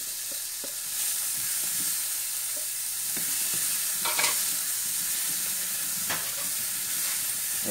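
Onion and garlic frying in a pan as a spoon stirs and scrapes, with repeated knocks and scrapes over a steady sizzle, nearby, and no talking.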